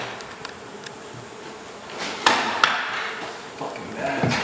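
Killer bees buzz during an indoor hive removal in Mission, Texas, a close droning hum with sharp knocks and scraping of tools on wood mixed in.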